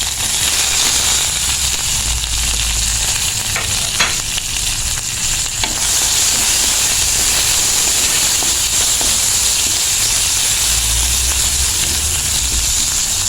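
Curry leaves and salt hit hot oil while tempering for a papaya mallum, giving a loud, continuous sizzle and crackle that carries on unbroken, with no talking.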